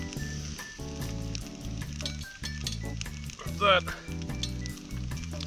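Steady frying sizzle from sausages in a pan on a gas stove, crackling continuously with a brief louder burst midway; a single spoken word and background music sit underneath.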